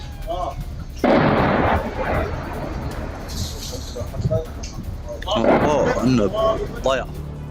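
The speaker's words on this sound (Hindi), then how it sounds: "आयता अल शाब में आर्टिलरी से अटैक किया गया इजराइल द्वारा। इजराइल के भीषण हमले का वीडियो भी सामने आ गया है।" Israeli artillery strike in southern Lebanon (Aita al-Shaab), caught in news footage: a sudden heavy blast-like burst of noise, then a rumbling wash and a second loud surge, with voices talking over it.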